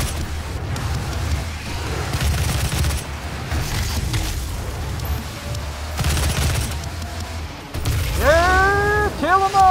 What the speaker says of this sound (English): Alright, machine gun time. Or assault rifle,